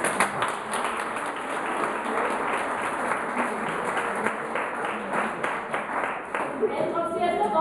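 Concert audience applauding a pianist and composer, a dense, steady wash of clapping filling the hall from start to end, fairly loud and close.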